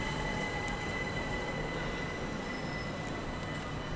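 A train passes near Sevenoaks station in England, a steady, fairly faint rumble of wheels on rails with a faint metallic whine, continuous and unbroken throughout, with no voices.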